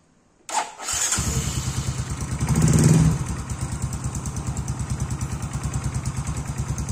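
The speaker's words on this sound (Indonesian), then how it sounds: "Kita akan nyalain mesinnya." A Yamaha X Ride motorcycle engine starts after a short silence, revs briefly with a louder swell, then settles into a steady, close, rhythmic idle, with no talking.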